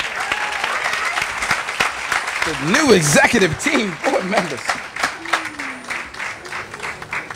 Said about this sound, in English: One more time, clap it up for